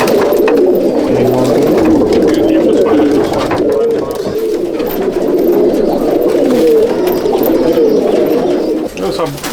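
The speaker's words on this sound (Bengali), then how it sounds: "ওই যে বলছিলাম যে নর পায়রা বেশি দেওয়ার আছে, এদিকে সব নরগুলো।" Male Andhra and Malwai pigeons coo continuously in a large pigeon loft, a dense, steady murmur of overlapping calls close by, with a person talking over the flock.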